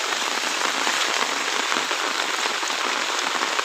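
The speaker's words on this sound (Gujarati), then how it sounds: "વરસાદ પડે છે જબરજસ્ત" Heavy rain pours down in a village, a dense, steady hiss of drops striking surfaces that stays unbroken and loud for the whole stretch.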